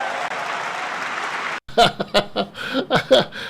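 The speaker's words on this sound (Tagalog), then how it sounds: "Yung nagpalakpak na dalawa." Two people clapping steadily for about a second and a half, a dense patter that stops abruptly before voices and chuckling take over.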